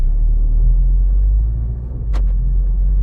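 A MK7 VW Golf Sportwagen fitted with an 034 Motorsport Streetsport engine mount is driving, giving a steady, loud, low engine and road rumble with a brief dip near the end and no talking.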